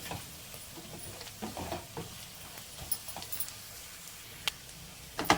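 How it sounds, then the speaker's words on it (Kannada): Dry masala frying in oil over a low flame for a mushroom gravy, a soft steady sizzle with scattered scraping stir clicks and a few sharper utensil taps, close and fairly quiet, with no talking. "ಈಗ ಡ್ರೈ ಮಸಾಲ ಹಾಕ್ಕೊಂಡು ಚೆನ್ನಾಗಿ ಫ್ರೈ ಮಾಡ್ಕೊಳ್ಳಿ ಆಯಿಲಲ್ಲಿ ಲೋ ಫ್ಲೇಮ್ ಇಟ್ಕೊಂಡೆ ನೀಟಾಗಿ ಫ್ರೈ ಮಾಡ್ಕೊಳ್ಳಿ"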